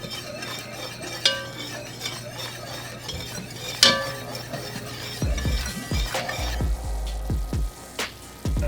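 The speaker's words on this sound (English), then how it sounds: "Hear that sizzle?" A flour-and-butter roux cooks in a pan for a Southern baked mac and cheese sauce. It gives a steady low sizzle, with a whisk clinking and scraping against the pan at intervals. No one speaks.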